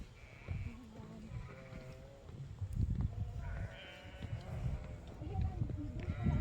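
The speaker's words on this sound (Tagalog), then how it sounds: "Daming tupa. Dami-daming tupa." Sheep on a farm bleat repeatedly from several directions, some near and some farther off, while people talk over them.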